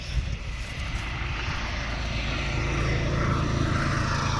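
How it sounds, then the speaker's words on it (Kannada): A steady, loud propeller-aircraft engine drone overhead, holding constant with no talk throughout. "ಸೂಪರ್ ಐತಿ ಏರೋಪ್ಲೇನ್"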